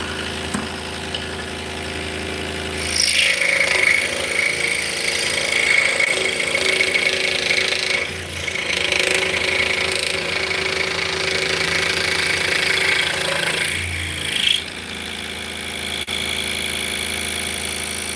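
A bandsaw cutting waste wood gives a steady droning motor hum with a whining tone, briefly dipping and swelling as the cut goes on, loud and continuous without talk.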